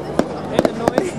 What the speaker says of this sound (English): That was officially the shortest fireworks ever.